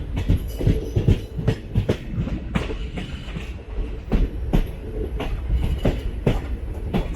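A train pulling into Sasthamkotta railway station in Kerala gives a close, loud run of rhythmic clickety-clack wheel beats over the rails with rumbling carriages and no talk.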